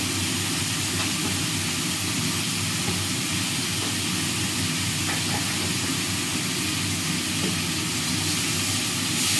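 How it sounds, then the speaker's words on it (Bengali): Potatoes frying in a pan with salt and turmeric: a loud, dense, unbroken sizzling hiss fills the whole stretch evenly, close by, with no talking. "না নামিয়ে চালিয়ে আমি আলুটা একটু ভাজা ভাজা করে নেবো"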